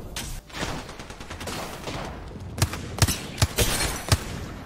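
Gunfire in the video game Apex Legends: a scattered volley of sharp shots with several distinct louder cracks near the end, over a busy game background with no talking.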